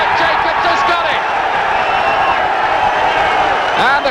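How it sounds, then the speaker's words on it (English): A boxing crowd at a British title fight roars and cheers the announced decision, a loud, sustained wall of voices and applause with swells, recorded at the arena. "And the crowd are off their seats at that"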